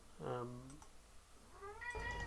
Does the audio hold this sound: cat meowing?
yes